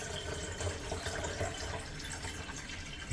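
Running water rinses leftover malt extract out of emptied homebrew beer kit tins, a steady broadband splash and trickle heard close and continuous without speech.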